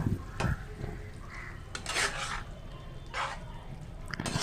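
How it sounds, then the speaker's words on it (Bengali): Bottle gourd greens curry with bori being stirred in a pan with a metal utensil, bringing a few scattered clinks and scrapes, fairly close and quiet, with stretches of low background between them. "এবার একটু ভালো করে মিশিয়ে নেব।"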